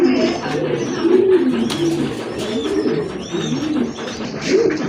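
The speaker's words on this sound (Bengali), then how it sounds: "আরেক জোড়া কবুতর চলে আসছে" Fancy pigeons kept for sale coo loudly and close, with overlapping rolling calls repeating through a dense flock and faint chirps and scuffles behind them.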